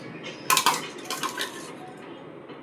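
A spoon scrapes and clinks against a steel mixer jar while a moong, garlic and green chilli paste is scooped out, giving a few sharp metallic scrapes and taps, then fading to quiet.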